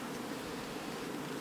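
Honeybees buzzing at an opened top-bar beehive with a Farrar top bar; a dense, steady, continuous hum fills the whole moment without pause or voices.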